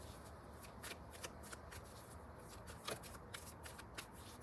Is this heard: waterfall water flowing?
no